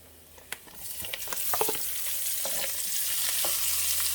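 Prawns drop into a hot pan with garlic and begin frying, giving scattered clinks and stirring noises that settle into a loud, steady sizzle.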